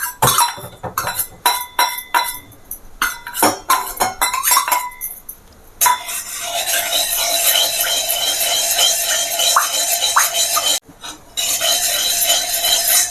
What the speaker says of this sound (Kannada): ಇದಕ್ಕೆ ತುಪ್ಪ ಹಾಕ್ಕೊಂಡ್ಬಿಡ್ತಾ ಇದ್ದೀನಿ. ಫಸ್ಟು ತುಪ್ಪ ಒಂದು ಸ್ವಲ್ಪ ಕರಗಬೇಕು.